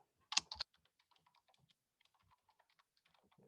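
Typing on a computer keyboard into a Word document: a couple of louder initial key strikes followed by a quiet, quick run of soft clicks, close and alone.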